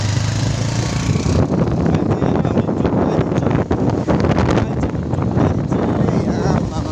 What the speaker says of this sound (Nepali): बाइक चाहिँ स्पिड कुदाइदिन्छ यसले